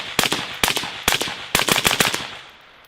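Rifle shots in a quick shooting drill: about a dozen sharp, loud reports in rapid bursts of two to four, each with a short outdoor echo, ending in a fading tail.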